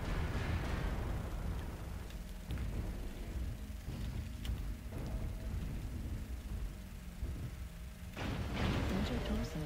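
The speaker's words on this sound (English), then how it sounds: "Warning, Incoming missile." Missile impacts in MechWarrior Online land as a run of heavy, rumbling booms over a constant battle din. They sound near and loud, with a cockpit warning tone and synthetic voice alerts mixed in.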